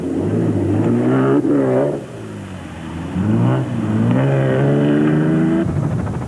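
Toyota race cars charging during the Carnival City 400 race in 2001, loud nearby engines revving and rising in pitch through several gear changes, two or more passing close in succession with no talk.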